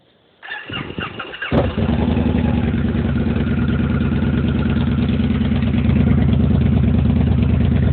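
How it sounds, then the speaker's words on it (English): A 2015 Victory Highball motorcycle with its exhaust tips removed starts up: a short cranking burst, then the engine catches and settles into a loud, steady, deep idle. "I'm about to turn the bike on for the first time."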